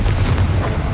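Confringo fire spell blast in the Hogwarts Legacy video game, a loud, dense rumbling burst with booming low-end weight that fills the whole second without pause.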